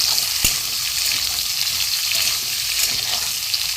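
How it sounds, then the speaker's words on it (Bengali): Ridge gourd and potato pieces sizzle in oil tempered with black cumin while a spatula stirs them, a steady close crackle broken by a couple of sharp scraping knocks. "ঝিঙে আলুটা অল্প করে একটু ভেজে নেবো।"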